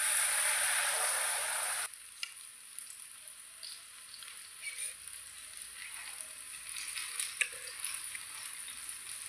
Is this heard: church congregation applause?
no